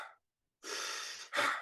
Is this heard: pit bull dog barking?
no